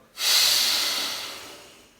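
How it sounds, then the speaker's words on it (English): One deep, forceful exhale during a yoga breathing exercise, a close, breathy rush of air that starts suddenly and tapers off slowly over about two seconds. "Inhale and then fully exhale out"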